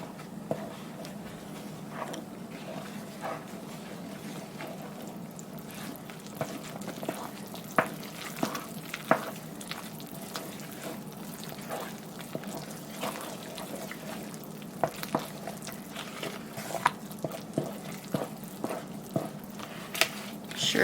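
Sourdough bread dough is mixed with flour in a bowl, a soft, steady wet churning with scattered light clicks and taps of the utensil, quiet and close.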